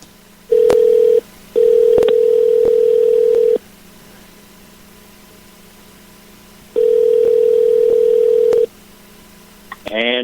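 A telephone sounds a steady dial tone in three separate bursts while a call is being placed again, then a brief rising tone follows at the very end.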